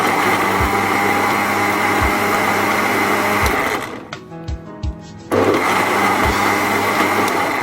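A kitchen blender purees tamarind and date chutney with a loud, steady motor whine, pauses for a second with a few light knocks, then starts whirring again at full strength.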